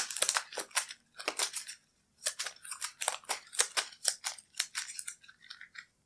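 Cards from the Pandemic board game are shuffled by hand, a series of crisp riffling and snapping bursts in quick clusters, close up with brief pauses between.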